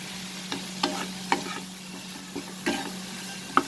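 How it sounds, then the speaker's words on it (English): Masala of spinach-and-potato curry sautéing in a pan over medium flame, with a steady low sizzle broken by several distinct spoon scrapes and stirring knocks, close and fairly quiet, no voices. "We'll saute the masala for a minute over medium flame"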